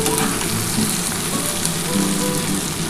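Sliced potato, bitter gourd and pointed gourd fry in hot oil in a pan, a loud, steady, crackling sizzle that fills the whole stretch without pause, no voices.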